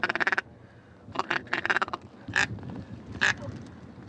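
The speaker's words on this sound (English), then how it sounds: "They are mainly black ducks." Black ducks calling in a series of loud, nasal quacks in several bursts, some close and some a little farther off, with no talk and a low outdoor rumble beneath.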